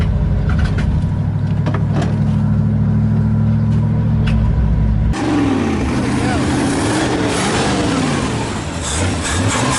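A 1968 Ford Mustang engine running after its spark plug timing was corrected, a loud steady low rumble that shifts to a rougher, busier idle partway through, heard close with people talking over it.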